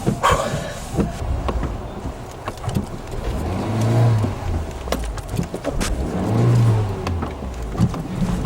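A car without power steering revs and accelerates as it drives and turns, the engine swelling twice in long, fairly loud surges with road noise between.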